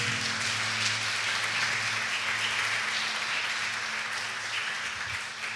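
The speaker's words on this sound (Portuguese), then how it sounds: "Você pode aplaudir esse Jesus maravilhoso?" A church congregation applauds during a sermon, a steady wash of clapping from many hands that fills the space for several seconds before easing slightly at the end.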